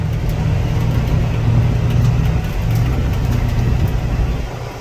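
A semi truck crosses a rough, muddy job site with a steady low engine drone and a rumbling ride, fairly loud, with no one talking.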